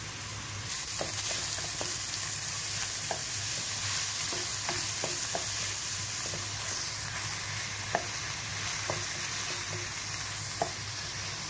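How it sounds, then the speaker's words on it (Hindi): Chopped onion and green chilli fry in hot oil in a pan, a steady close sizzle broken by occasional light taps of stirring. "पैन में ऑयल गर्म होने के लिए रखा है। इसमें चॉप किया हुआ प्याज और हरी मिर्च डाल देते हैं।"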